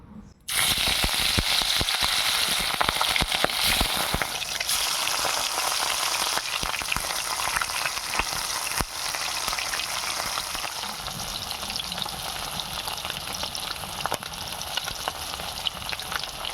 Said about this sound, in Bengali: আমি এই তেলেই মাছটা ভেজে নেবো।